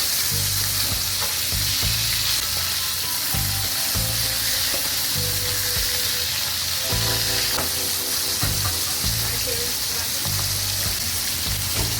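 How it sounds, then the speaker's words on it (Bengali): Tengra fish frying in mustard oil, a continuous loud close sizzle with repeated spatula scrapes and clinks against the pan throughout, no talking. "সরষের তেল দিয়ে দেবেন। ট্যাংরা মাছ কিন্তু আর ফুটছে না।"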